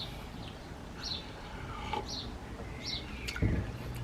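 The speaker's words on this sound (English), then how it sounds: "I think that's a magpie" A magpie calls outdoors with a series of short, sharp chirping notes at moderate distance, repeated several times over faint background ambience, with no speech.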